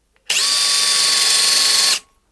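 A brushless 18V cordless drill driver with a blunt 10mm high-speed steel bit whirs steadily at high speed for about two seconds, loud and close, then spins down and stops.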